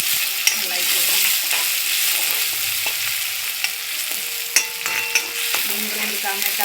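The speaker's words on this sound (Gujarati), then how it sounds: "હવે નાખી દેવાના લીલા મરચાં અને ટામેટાં।" Green chillies and tomatoes sizzle in a pan for a dry vegetable dish while a utensil stirs them, a steady frying hiss broken by scraping strokes and a few sharp clinks against the pan.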